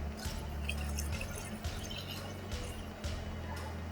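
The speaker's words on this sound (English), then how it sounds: "Pour this in." Hot pepper ferment being poured into a container, a soft close liquid trickle with drips and small splashes over low background hum.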